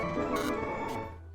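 Circus tune that Freddy plays in a Five Nights at Freddy's fangame, a short burst of dense, tinny tonal music with a couple of brighter accents, fading at the end.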